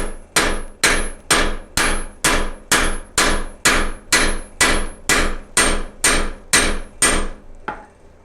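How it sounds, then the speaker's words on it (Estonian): A hammer peens a scythe blade on a Schröckenfux two-cap peening anvil, about fourteen evenly spaced, sharp metallic strikes close and loud, each ringing briefly, followed by a final lighter tap. "pinnimise alasi läheb siia peale ja ei ole midagi muud kui haamriga pihta anda"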